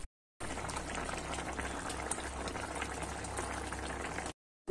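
Snakehead fish curry with drumstick, eggplant and potato boiling in a pot, a steady close bubbling simmer that runs without pause for about four seconds, with no voices.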